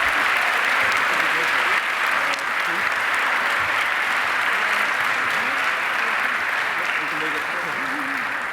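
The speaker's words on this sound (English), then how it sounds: "Please give a round of applause for all our participants" Sustained audience applause for award recipients at a lecture forum, a dense, even wash of clapping lasting the whole stretch with no break.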